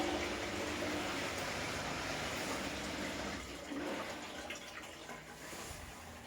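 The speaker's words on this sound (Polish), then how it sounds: "Wodę wlało." Water rushes steadily into a Candy washer-dryer, a constant hissing flow that gradually softens toward the end.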